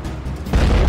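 A truck bomb blast on the Kerch Bridge, heard as a sudden deep, loud boom that breaks in halfway through and rolls on as a heavy low rumble.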